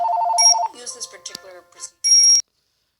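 Phone ringtone chiming in melodic electronic bursts during a call, a repeating tone followed by a brief tune, then one more short ring, loud and close, with someone speaking over part of it.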